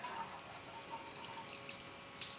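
Freshly sown flat leaf parsley seeds being watered indoors in a greenhouse setting, a faint, quiet trickle of water with light splashy drips, alone without talk.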